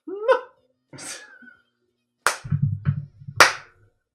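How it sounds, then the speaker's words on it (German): A few sparse, deliberate claps given ironically in a small casual setting, scattered between brief vocal sounds and short laughs, close and dry with silence between bursts. "Das ist ein ironisches Klatschen."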